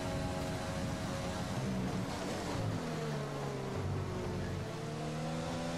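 Race car engine in an F1 video game, Spain circuit, sustained loud droning whine with rising and falling pitch as the car accelerates and shifts, continuous throughout with no talk.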